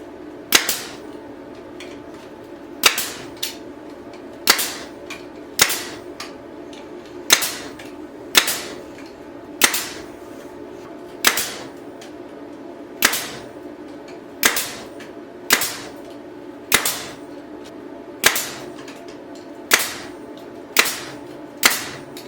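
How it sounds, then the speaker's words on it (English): Cedar fence boards being joined into a footstool with a nail gun: sharp, loud pneumatic shots fire one by one at a steady pace of roughly one every second or so, with quiet room noise between them and no talking. "we're going to be using a nail gun to put this guy together with"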